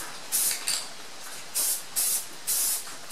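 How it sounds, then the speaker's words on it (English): Spray paint hissing onto an intake manifold in five short bursts of a second or less, close and fairly loud, with quiet pauses between each pass. "Seems to be spraying out pretty thick."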